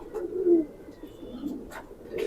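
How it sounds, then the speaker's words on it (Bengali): A pigeon coos in a low, soft, rolling call, close by and fairly quiet, with a few faint chirps mixed in. "এই যে কবুতরটা,"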